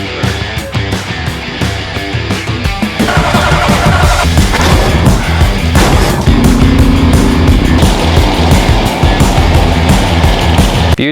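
An old 1983 Dodge W-150 pickup engine catches after the key is turned and settles into a loud, rough, continuous run that fills the rest of the clip, with no talking over it.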